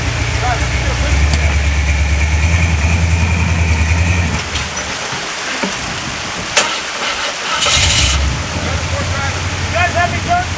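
A vehicle engine idles steadily and loudly at the base of a waterfall climb, a constant rumble with hiss that eases after about four seconds, joined by brief clanks and a short burst of hissing noise.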